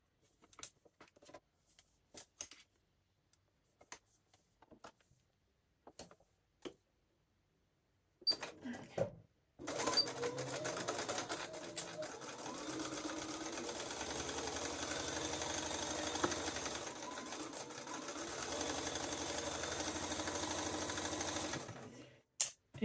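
After a run of scattered clicks and handling sounds, a sewing machine sews the side seams of a garment in a home sewing studio, whirring steadily and close for over ten seconds before stopping.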